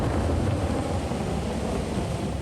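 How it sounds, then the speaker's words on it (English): Strong wind buffeting a rough treetop shelter in flat open country during an electrical storm, a loud steady rushing roar with gusty low rumble, no voices. "It's cold. It's windy."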